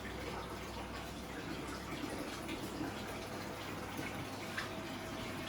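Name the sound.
water draining from coral pond into aquarium sump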